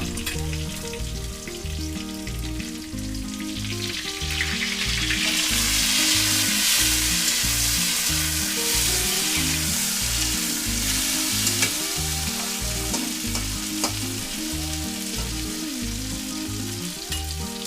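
Chopped tomatoes hit a hot pan of potatoes and fry with a loud, steady sizzle for a Bengali rohu fish curry, with rhythmic stirring scrapes throughout and no talking.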